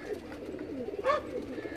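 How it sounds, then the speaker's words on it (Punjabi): Racing pigeons give a brief, faint, soft coo that rises and falls once near the middle of a short quiet moment. "7 ਕਬੂਤਰਾਂ ਦਾ ਸਕਾਟ ਹੈ ਜੀ ਇਹ"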